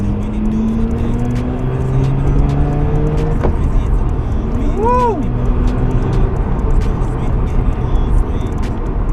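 A Mazda RX8 R3 with its rotary engine driving, a loud steady engine drone with shifting pitch and a short rising rev, while a man lets out an excited whoop over it.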